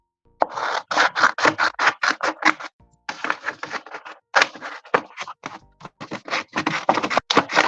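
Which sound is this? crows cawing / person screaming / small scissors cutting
small scissors cutting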